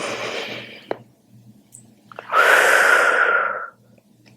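A woman breathes out slowly and deeply during postnatal yoga. There is a soft breath early on, then one long, full exhale lasting about a second and a half. It is close, with a quiet low hum underneath.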